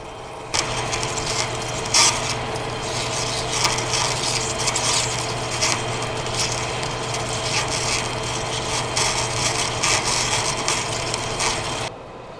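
Steady drilling into 316 stainless steel on a manual machine after a pilot hole, a continuous grinding, rasping cut with a low hum that holds loud and even for about eleven seconds, then stops abruptly.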